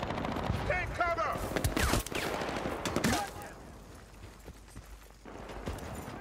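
Machine gun fire in the war shooter Battlefield: Bad Company, with dense rattling bursts mixed with battle clatter and voices, easing off toward the end.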